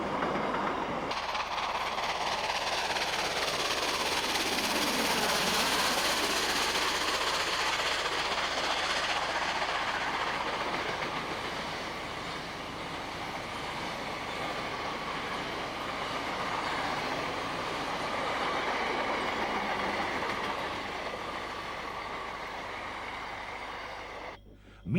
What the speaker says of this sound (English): the Kimberley-based SteamNet 2000 group operated number 3467 on a return freight to the Darm